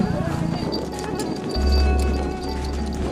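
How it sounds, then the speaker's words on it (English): Horses walk across the Sand Sea on the way down from a volcano, hooves thudding under loud wind and a deep low rumble that swells midway, with a constant busy noise throughout. "We jump on our horses and head back to the Losman across the Sand Sea."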